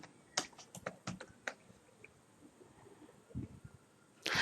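Several separate keystrokes on a computer keyboard as a file name is typed, spaced irregularly and fairly close, over a quiet room, with a louder burst of clicks at the end.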